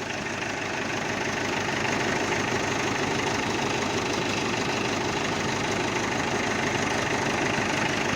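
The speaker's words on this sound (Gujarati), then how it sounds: "મહિન્દ્રા પાંચસો પંચોતેર ડીઆઈ" A Mahindra 575 DI tractor engine idles close up, a steady, rough diesel chug with a constant knocking rhythm and no talking.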